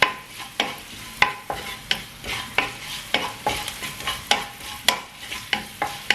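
Lemon rice tempering roasts in a pan while a spoon stirs it, giving steady rhythmic scrapes and taps about twice a second over a soft, constant sizzle, close and fairly loud.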